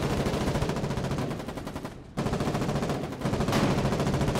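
Enemy gunfire in the war video game Foxhole: dense, rapid bursts of loud shots that rattle on almost without pause, with a brief break midway before the firing resumes.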